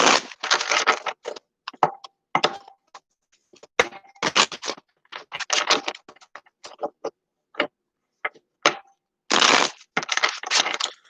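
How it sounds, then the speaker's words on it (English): Tarot cards riffle and slap in quick bursts separated by short silences, crisp papery flutters repeating in an irregular rhythm, close and clear. "3 shuffles."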